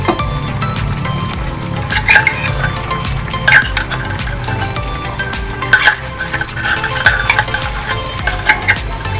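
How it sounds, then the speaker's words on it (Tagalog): Chicken caldereta stew with potatoes, carrots and liver spread being stirred in its broth, with soft scraping and liquid sloshing in a steady, continuous rhythm and a few brighter clinks of the spoon against the pot. "Haluin po natin para po matunaw yung liver spread natin dun sa sabaw."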